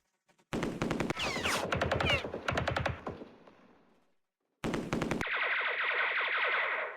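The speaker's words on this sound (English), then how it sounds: "we'll shoot at these guys with our machine gun" Rapid bursts of video game machine gun fire in a Vietnam war strategy game rattle loudly, fading into an echo, followed by another sustained burst with a harsher, buzzing tone.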